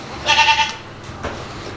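A young goat bleats once, a loud close wavering call on a farm, followed by quieter rustling and a faint second sound.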